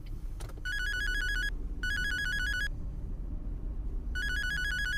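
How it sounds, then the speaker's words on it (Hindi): A phone ringtone sounds inside a moving car in a horror story, three bright electronic ringing bursts in a repeating pattern over a constant low engine and road rumble. "ड्राइव करते हुए फोन पिक मत किया करो मानव"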